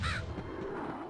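Harsh crow caws from birds in the video game Medievil, a loud burst of cawing at the start that trails into a murky ambient background.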